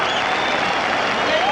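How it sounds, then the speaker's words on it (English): A standing crowd applauds and cheers at the final bell of a heavyweight boxing match, a dense, steady wash of clapping filling the arena with no break. "And the crowd is on its feet applauding."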